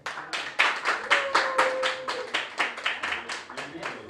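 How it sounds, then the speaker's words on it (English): An audience claps for business league finalists receiving their medals, a fairly steady run of distinct hand claps close by, with voices underneath. "let's clap for them"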